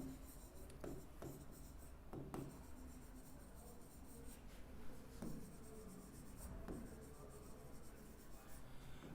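Chalk or marker writing on a board in a lecture, quiet scratchy strokes in short bursts and scattered taps, faint and close, with no speech.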